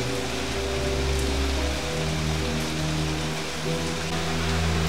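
Steady rain falls in bad weather at night, a dense unbroken hiss of drops on surfaces with a low rumble beneath, continuous and fairly close.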